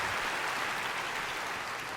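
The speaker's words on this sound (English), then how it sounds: "Round of applause for yourselves" Audience applause at the 2014 NASCAR Sprint Cup Series Awards at the Wynn in Las Vegas, a steady wash of many hands clapping from a large crowd throughout.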